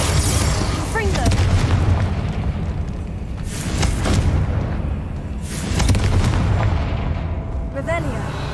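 Confringo explosion spells blast in the Hogwarts Legacy video game, heavy booms bursting several times over a dense, rumbling battle din that stays loud throughout.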